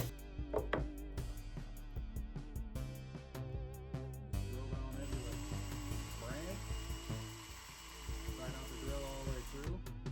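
A power drill whirs in short bursts, then runs longer as it drives screws, with clicks and handling noises close by.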